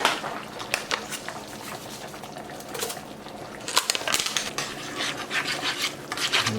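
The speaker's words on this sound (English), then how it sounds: "And we're just going to mix that up and let it cook for a few minutes till it thickens up a little." A utensil stirs taco seasoning into browned beef and water in a pan, making repeated scraping and rubbing strokes with small clinks, close and moderately loud.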